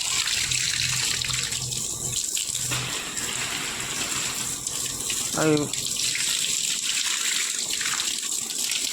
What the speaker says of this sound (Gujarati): આ બાજુના ભાગમાં આપણે પાણી ચાલુ કરી દીધું